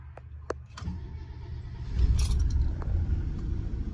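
A few clicks and clunks, then the large engine of a 1990 Monaco Crown Royale motorhome cranks and rumbles to life, settling into a low, steady idle close by.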